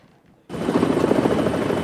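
A helicopter with gunfire in a film scene cuts in abruptly after a near-silent start, giving a loud, dense rotor roar with rapid chopping pulses and no talk.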